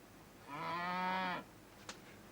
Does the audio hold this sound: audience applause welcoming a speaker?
no